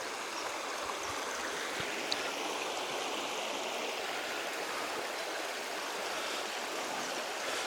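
Steady rushing flow of Dartmoor Brook, a moorland stream, fills the scene as a broad, continuous wash of water noise that stays even and close throughout, with no voices.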